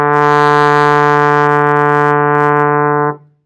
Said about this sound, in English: It's D. We fingered that in fourth position with the slide sleeves at the edge of the bell.